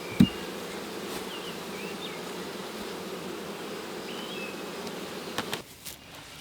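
Honey bees buzzing steadily at close range, a soft continuous drone with individual insects flitting past, ending with a few knocks.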